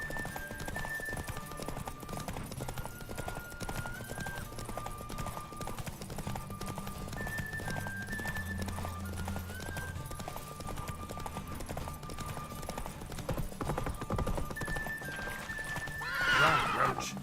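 Roach the horse galloping in The Witcher 3, rhythmic clip-clop hoofbeats under game music, with whinnies and a louder burst near the end while a voice talks over the ride.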